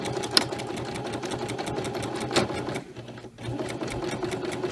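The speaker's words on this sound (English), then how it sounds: "And then you keep sewing." A sewing machine runs steadily, stitching fabric for a mermaid tail, with a brief pause and slowdown partway through before the rapid needle rhythm resumes; no one speaks.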